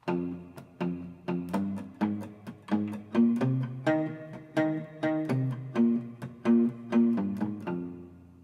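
A guitar plays a picked riff of single notes in a steady, bouncing rhythm, clear and close, each note ringing briefly before the next.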